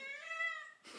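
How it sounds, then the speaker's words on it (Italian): A house cat being offered food gives one drawn-out, clear meow close by, fading near the end into a soft rustle, with no talk over it. "Vuoi la pappa anche tu, Gatta Stellina?"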